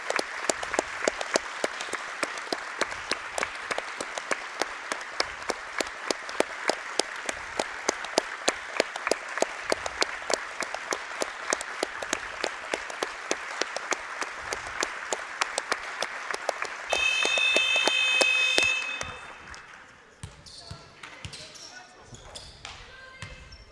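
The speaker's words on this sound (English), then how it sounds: "we'll stand here for 24 seconds of clapping and applause in honor of Betty Codona" At a women's basketball game between the Archers and Caledonia Pride, an arena crowd claps in sustained rhythmic applause as a tribute, a dense steady patter that swells near the end and then fades to sparse claps and quiet murmurs.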